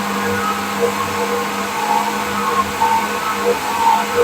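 Electric blender grinding tomatoes into a smooth puree for homemade ketchup, a steady loud motor whir running throughout with a low hum and no talk.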